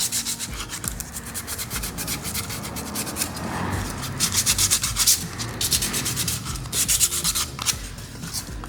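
Sandpaper rubbed by hand over a rounded wooden piece for an aged finish, a close, continuous rasping with rhythmic back-and-forth strokes that swell louder midway.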